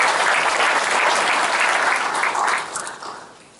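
A dense burst of clapping rises from the audience at a Gumi Chamber of Commerce breakfast meeting, holding strong for about two and a half seconds before tapering off.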